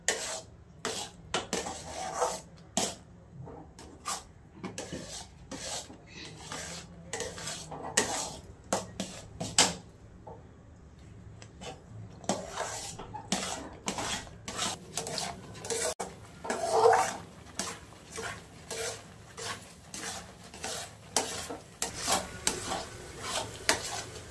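Spatula continuously stirring and scraping cashew-almond modak mixture in a pan, a dense run of rhythmic metallic scrapes and clatters, close and steady, no talking.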